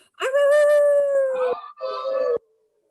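People imitating a howl at the moon, sustained rising-then-falling voiced howls, loud and close, with a second shorter howl following the first.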